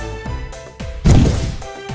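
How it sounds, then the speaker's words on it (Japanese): A beaker bursts with a loud thump and rumbling boom during potion brewing in the Twisted Wonderland game, set against ongoing game music. "爆発した。 失敗か。"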